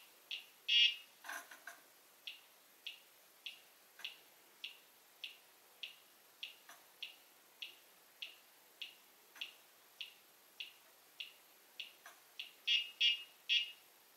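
Gotek floppy drive emulator with a sound mod on HxC or FlashFloppy firmware, producing a steady series of short regular clicks and stepping ticks while booting International Karate, faint and alone, with a quick burst of clicks near the end.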